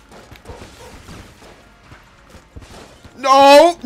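Alien sidearm firing in the video game Enter the Gungeon: a loud burst of bright, ringing laser-like tones near the end, after a stretch of talking with muted game noise.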